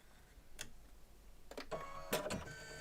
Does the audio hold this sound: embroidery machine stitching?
yes